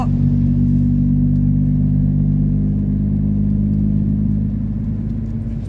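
A convoy of heavy 18-wheel and 10-wheel trucks rumbles past close by, a loud, steady low engine drone with whirring tones that slowly fades toward the end.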